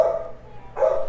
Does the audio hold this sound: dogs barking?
yes